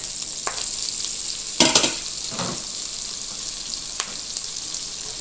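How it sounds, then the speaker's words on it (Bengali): Chopped onion hits hot oil in a pan and fries with a steady sizzle, broken by a few louder scraping stirs of the spoon, close and without talk. "এখন দিয়ে দেবো পেঁয়াজ কুচি"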